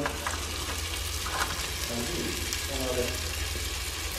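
A masala mix with green chillies roasts in a pan for a chicken curry, a steady, close sizzle with stirring scrapes throughout and a low background hum.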